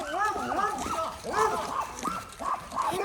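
A dog barks and whines in short, rising yelps through the clip, fairly close, mixed with light background noise.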